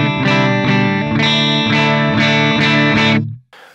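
Clean electric guitar chords through a Fender Twin Reverb-style amp model with vibrato ring out in a repeated strummed pattern with a bright, shimmering tone, then cut off abruptly.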